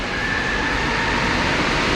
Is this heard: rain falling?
no